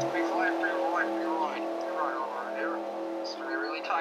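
In-car audio from a Nationwide Series stock car racing three wide at Talladega: a steady, droning engine whine with sustained tonal harmonics, heard up close while a commentator talks over it.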